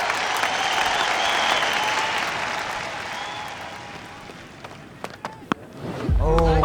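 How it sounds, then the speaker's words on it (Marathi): Loud applause from a cricket match audience swells at the start of a second innings, a dense steady crackle that fades slightly before a few sharp claps and a voice break in near the end. "जोरदार टाळ्या हवा."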